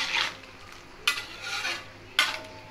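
A spoon stirs veg chicken dalcha curry in a pot, with a low simmering hiss broken by three sharp scraping clanks of the spoon against the metal rim; no speech.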